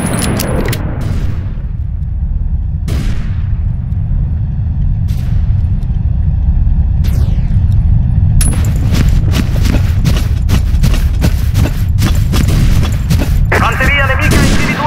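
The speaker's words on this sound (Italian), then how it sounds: "Bomba in esplosione!" Battlefield 1 combat audio set around Tolmezzo: loud, dense gunfire with sharp repeated shots and heavy booming bomb explosions, continuous rumble throughout and a burst of rapid fire near the end, with in-game voice callouts over it.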